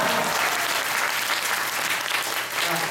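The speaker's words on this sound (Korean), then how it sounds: "이렇게 해서 큰 박수 부탁드리겠습니다" A theater audience claps steadily at a post-show talk for the musical Smoke: dense, sustained applause from a full house that holds at an even level for the whole stretch, with no voices standing out.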